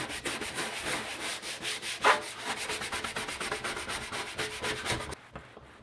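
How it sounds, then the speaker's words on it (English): A brush scrubs surface rust off the metal back seat frame of a 1966 Ford Mustang with cleaner, a fast steady rhythmic rasping, close and continuous, stopping abruptly near the end. "I'm going to go get a brush to saturate all this."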